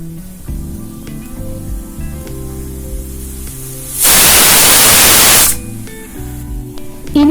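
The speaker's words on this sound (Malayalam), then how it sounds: "കുക്കറിൽ ആദ്യത്തെ വിസിൽ വന്നു കഴിഞ്ഞു." A pressure cooker whistles while potatoes cook for masala dosa, a loud steady hissing blast of steam lasting about a second and a half, cutting in abruptly over quiet background music and stopping just as sharply.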